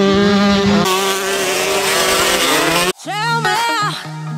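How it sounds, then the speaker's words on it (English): A two-stroke motorbike in a sand race, engine loud and close with a high buzzing drone that cuts out abruptly, then sharp revving bursts follow. "I'm on a two-stroke."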